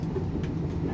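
An XPT passenger train rolls along, heard from inside a carriage as a steady, dense low rumble of wheels and track noise, continuous and fairly loud, with no voices.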